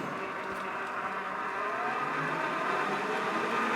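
A mini metal lathe with freshly lubricated gears running steadily, a smooth, moderately quiet mechanical whir and hum that holds constant throughout with no voices.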